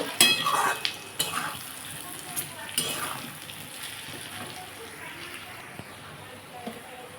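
Potato, parwal and prawn curry being sautéed with chilli powder and turmeric, a soft sizzle under stirring scrapes and clattering utensil knocks, loudest in the opening seconds.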